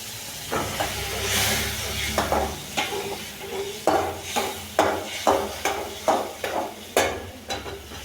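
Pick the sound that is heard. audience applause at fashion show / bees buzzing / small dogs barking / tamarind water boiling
tamarind water boiling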